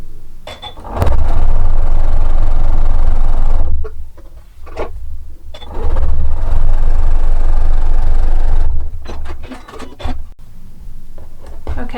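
Sewing machine stitching seams through quilt fabric squares, running in two long loud bursts of steady motor hum with brief pauses between them.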